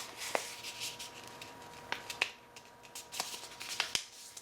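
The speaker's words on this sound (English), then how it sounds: "Open it up and fold it in half the opposite way, making sure that this new fold lines up beautifully." Paper being folded in half and creased for a pillow box, giving several crisp, sharp crackles and snaps spread across a quiet background, close up.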